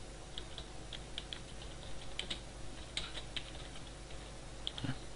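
Faint keystrokes on a computer keyboard while building a PowerPoint presentation, scattered light clicks in small bursts against a steady background hiss, with no talking.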